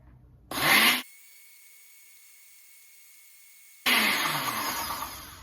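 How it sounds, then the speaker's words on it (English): A blender purees avocado oil pesto with garlic and no nuts, whirring loudly in a short half-second burst, falling quiet for a few seconds, then starting again with a steady grinding whine. "We're gonna blend this for about 30 to 60 seconds until everything is pureed and put together."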